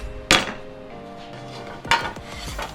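A knife chops an onion with two sharp, close knocks against a board about a second and a half apart, the second followed by a quick cluster of smaller taps and clinks.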